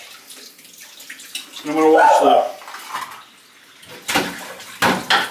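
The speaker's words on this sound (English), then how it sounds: "I'm going to take a minute, wash my knife." Kitchen sink tap runs while a knife is rinsed, water splashing in bursts that swell loud mid-way then return in short gushes, with someone talking over it.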